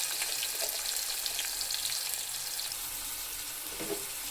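Curry leaves, onion, cumin and fenugreek seeds crackle in hot oil for onion pulusu, a steady close sizzle with faint bubbling and a brief stirring sound near the end.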